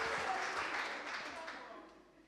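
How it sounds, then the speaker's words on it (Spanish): A crowd at a labor panel event applauds, a dense wash of clapping that gradually fades away over a couple of seconds. "fuerte el aplauso"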